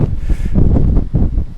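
Strong wind buffets the microphone on a dark seaside shore, a loud, gusty low roar that surges and dips without pause.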